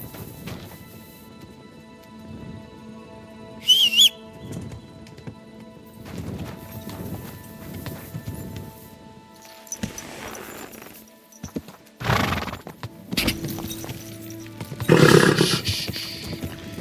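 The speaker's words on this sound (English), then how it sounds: "Easy, good horse." A horse in the medieval video game Kingdom Come Deliverance 2 clip-clops along with a steady hoof rhythm, broken by a few sharp snorts and neighs over a low ambient wilderness bed.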